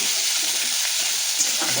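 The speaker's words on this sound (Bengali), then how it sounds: "এখন মশলাটাকে মা ভালো করে কষিয়ে নেবে।" A paste of ginger, garlic and dried chili sizzles steadily in hot oil while being stirred for a crab curry, a loud, continuous frying hiss up close.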